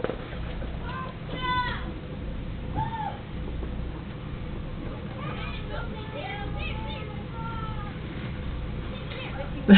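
A cat meows several times during a 2008 snowstorm, the calls fairly faint over a steady background, with a person talking nearby.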